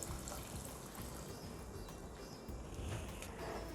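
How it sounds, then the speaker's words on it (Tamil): About a litre of water pours from near into a cooking pot of sautéed vegetables for a cream of vegetable soup, a faint, steady splashing trickle with no talk. "நல்லா 1 லிட்டர் கிட்ட தண்ணி விட்டுருங்க."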